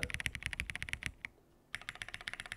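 Quick bursts of typing on an MW75 R1 keyboard with a polycarbonate gasket-mount build, close and crisp clacks that stop briefly mid-run before resuming at the same brisk pace.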